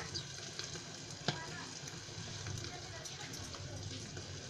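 Chicken frying in hot oil on a gas stove gives a steady, loud sizzle with continuous crackling and one sharp pop midway.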